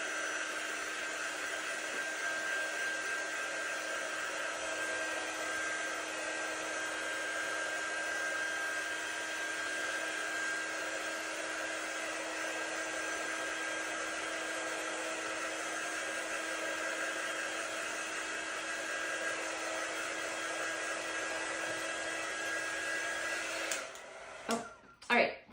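Handheld craft heat tool blowing hot air to dry paint on a project, a steady loud whooshing roar with a thin whine, running unbroken for over twenty seconds before cutting off with a few clunks.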